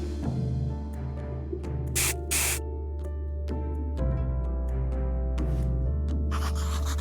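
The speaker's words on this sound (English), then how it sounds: "And now spray it into both eyes." Tincture sprayed into the eyes in the video game Graveyard Keeper: two short airy spray bursts stand out over a humming game background, with a later hiss near the end.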